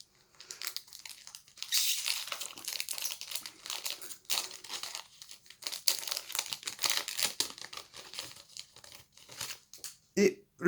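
A Pokémon Sword and Shield booster pack is torn open up close, with crinkly foil rustling and tearing in uneven bursts throughout and a few sharp crackles near the end.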